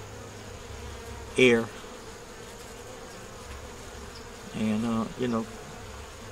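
Honey bees hum steadily around a sugar feeder holding crystallized sugar, a continuous close buzz broken twice by short bursts of a man's speech.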